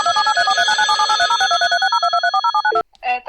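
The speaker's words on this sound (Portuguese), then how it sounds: "Oh, it's Steve calling." Phone ringtone for an incoming call, a fast, loud electronic melody of rapid repeating notes that runs for nearly three seconds before cutting off, followed by a short different tone.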